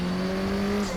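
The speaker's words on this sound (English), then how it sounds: "the turbo noise is really loud in these" A Volvo 240 Turbo touring race car lapping Knutstorp Ring, with a loud, steady engine drone and sustained whining tones running unbroken and close, with no voices over it.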